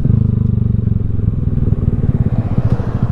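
A Honda Grom motorcycle cruises along with a loud, close, pulsing engine drone and steady rhythmic thrum, with road and wind rumble mixed in.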